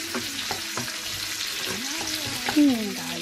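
Chopped garlic sizzles in a hot pan, giving a steady, close frying hiss with light stirring and a brief voice in the background.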